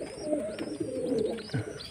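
Pet pigeons coo close by in soft, throaty rolling calls, several overlapping phrases rising and falling over a quiet background, with no talk.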